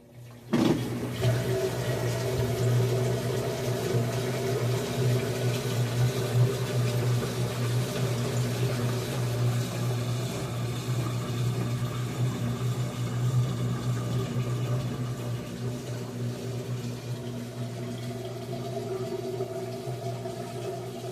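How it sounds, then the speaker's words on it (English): A Whirlpool washing machine runs its cycle with water, having gone into spin when it should have been rinsing. Steady, close churning and rushing water with a low motor hum runs continuously and evenly, with no voices. "So the washer did go into spin"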